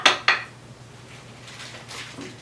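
A butter knife pushes down and chops through gluten-free, dairy-free fudge mixture in a pan, giving two sharp metallic clinks in quick succession at the start, then quiet background.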